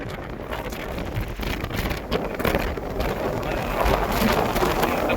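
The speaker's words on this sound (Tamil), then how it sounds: "காற்று பயங்கரமாக அடிக்குது." Strong wind buffets the microphone on a high rocky hilltop at Pulikundu Hills, a continuous loud rushing roar that swells toward the end.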